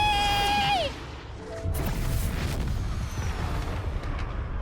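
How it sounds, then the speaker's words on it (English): Explosion in the video game Xenoblade Chronicles 3: a loud, broad crash-like burst rolling into sustained rumbling noise, following a falling synthetic tone, with no voices. "No, just an explosion."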